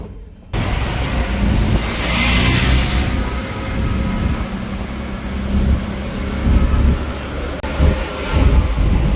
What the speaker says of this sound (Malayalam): പുള്ളീൻ്റെ ഓട്ടോയിൽ കയറി നേരെ നമ്മൾ സൂവിലേക്ക് പോവാണ്